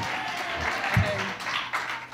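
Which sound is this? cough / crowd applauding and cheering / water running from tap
crowd applauding and cheering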